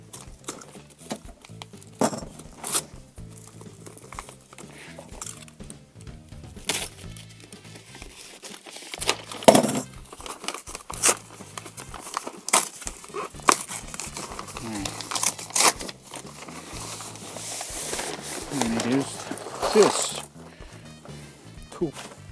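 Paper wrapping is crumpled and torn off a package of vintage LEGO items, irregular close crinkling and ripping bursts with quieter pauses between them.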